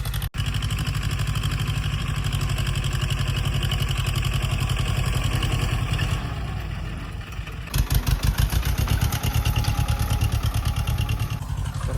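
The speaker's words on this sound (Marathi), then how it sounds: "ट्रॅक्टर आलाय आपला" A tractor engine runs steadily close by on a farm on the first day of sowing, a dense throbbing idle that dips briefly, then resumes with a slightly rougher, pulsing chug.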